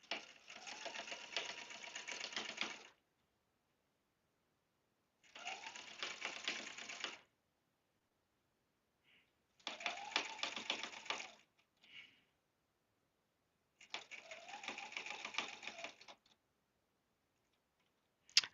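A sewing machine stitches a log cabin table runner in four separate bursts of rapid, rhythmic needle clatter, each lasting a few seconds, with quiet pauses and small clicks between them.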